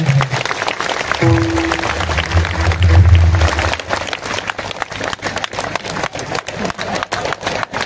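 An audience at a Marathi kirtan breaks into applause, dense rapid clapping that swells and holds steady close by, with a sustained tone and some voices in the first few seconds.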